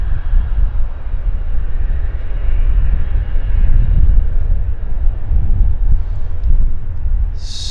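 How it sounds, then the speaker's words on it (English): A WestJet airliner passes at Vancouver Airport, a loud, steady low jet roar with broadband rumble that holds and swells slightly through the middle, with no talk. "There goes the Westjet."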